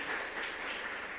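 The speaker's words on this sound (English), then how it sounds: "You need an applause." Brief applause from a seated audience at a health and longevity panel held by a European spas association, a steady even patter of clapping at moderate distance with no talk over it.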